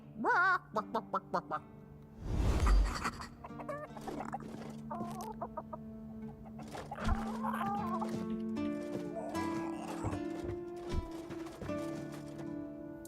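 Chickens in the Tainted Grail: The Fall of Avalon video game cluck and squawk in repeated bursts, fairly close, over a sustained musical drone with a few scattered thumps.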